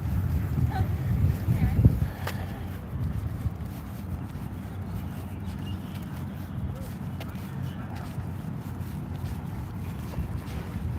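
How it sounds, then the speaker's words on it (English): Gusty wind buffets the microphone on a Toronto lakeshore waterfront walk, a steady low rumble with a stronger burst early on, with faint background sounds. "Looks like it's getting windier"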